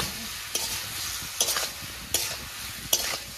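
Fish stomach frying in a pan with crushed garlic and a little turmeric, a steady soft sizzle broken by four sharp scraping stirs spaced evenly, close and alone.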